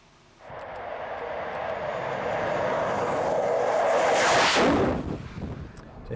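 A Hawker Hunter F58a jet roars in fast and low at about 540 knots at Shoreham Airshow, building from a distant rumble to a loud, close, rushing pass before fading away.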